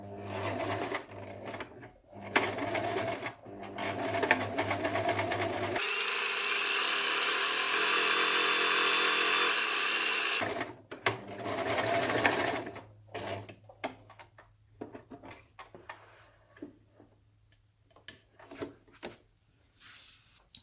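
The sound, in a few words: sewing machine stitching fabric for a snood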